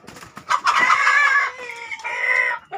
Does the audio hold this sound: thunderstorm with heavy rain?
no